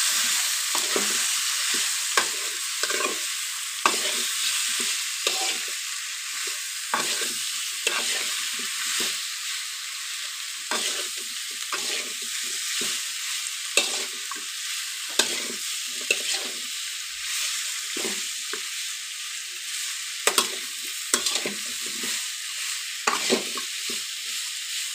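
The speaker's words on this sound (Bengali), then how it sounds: "এবার চালটাগুলো ভেজে নেব।" Boiled, crushed elephant apple (chalta) pieces fry and sizzle in a pan for pickle, a steady hiss broken by repeated scraping stirs at an irregular rhythm, close and alone without talk.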